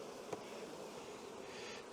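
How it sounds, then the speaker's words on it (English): A dense crowd of honeybees packed into a wooden hive box, giving a steady, soft hum throughout with no talk, the buzz low and continuous for the whole moment. "So we got a whole ton of bees in here now."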